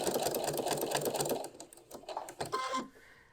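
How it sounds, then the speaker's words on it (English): A sewing machine stitches through Thermolam wadding for a cafetière cover. A fast continuous run of needle strokes lasts about a second and a half, then short stop-start bursts follow, close and clear. "we're going to stitch up to the corner"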